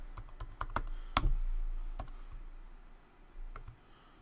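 Computer keyboard typing in a word-checker game demo: a short burst of crisp, close key clicks in an irregular rhythm, one louder clack in the middle, then a couple of scattered taps before the clicking thins out.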